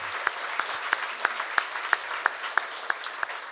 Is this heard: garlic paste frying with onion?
no